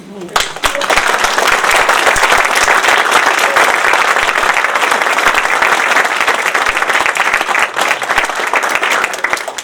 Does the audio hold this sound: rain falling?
no